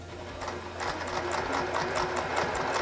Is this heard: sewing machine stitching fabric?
yes